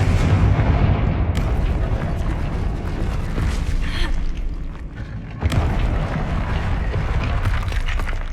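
Confringo fire-blast spell detonating in Hogwarts Legacy: heavy booming blasts, one at the start and another midway, each rolling into a rumbling, crackling tail over continuous game noise.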